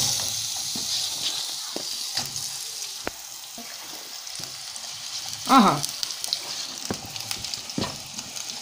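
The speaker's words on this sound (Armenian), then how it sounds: "մյուսի մեջ կտապակեմ սոխը և բիբարը միասին" Onion and pepper frying together in oil in a pan give a steady, close sizzle, swelling into a brief louder hiss near the middle before settling back.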